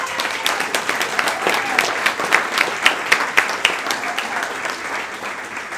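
Audience applause rings out at a graduation ceremony, a dense crowd clapping steadily with a few louder sharp claps rising through, and faint voices mixed under it.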